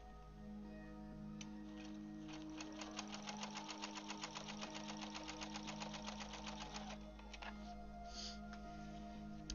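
A sewing machine stitches a Seahawks quilt in a quick, even run of ticking stitches that starts, holds a steady rhythm for several seconds, then stops, over a constant low background hum.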